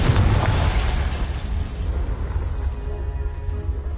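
Confringo fire spell blast in Hogwarts Legacy, a loud booming explosion that fills the clip and slowly rumbles and crackles away.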